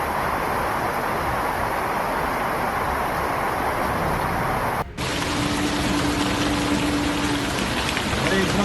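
Heavy rain pouring steadily in Jeddah, a loud dense hiss of drops on surfaces that continues unbroken apart from a brief cut midway.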